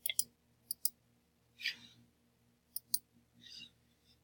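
Sharp computer mouse clicks arrive in small clusters over a low steady hum, with a few softer rustling movements in between; close and fairly quiet, with no talking.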